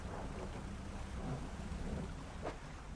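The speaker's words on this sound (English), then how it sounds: "I don't like the sound of that. That is lightning." Thunder from a lightning storm rumbling low and faint over steady rain-like hiss, with a brief sharper crack near the end.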